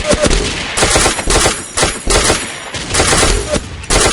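Rapid gunfire from the Ace of Spades video game, loud bursts of automatic shots in quick clusters with short gaps between volleys, close and dominant throughout.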